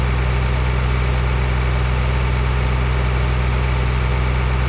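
A tractor engine idles steadily in Farming Simulator 2013, a loud, continuous low rumble with a constant hum and no speech over it.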